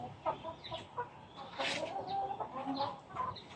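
Brahma chickens cluck and murmur in a backyard flock, with a few sharper calls rising above a soft, busy chatter. The birds are close and fairly quiet, and no one speaks.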